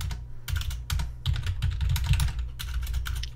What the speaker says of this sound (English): your keyboard is going berserk, dude. That is super loud.